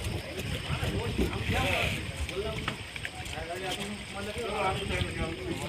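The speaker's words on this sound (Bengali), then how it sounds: "বন্ধুরা আমরা চলে এসেছি নৌকাতে" A small fishing boat on a Sundarbans river, with gentle water sloshing and splashes around the hull under steady nearby talk.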